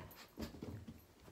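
Puppy whimpering softly with a few short, faint whines and breathy panting, close by and quiet in an indoor room.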